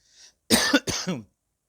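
A single close cough in two harsh bursts, preceded by a faint breathy sound, then silence.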